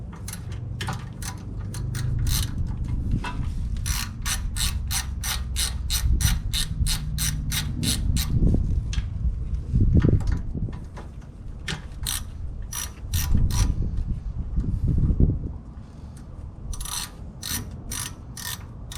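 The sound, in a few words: ratchet removing bolts from car front suspension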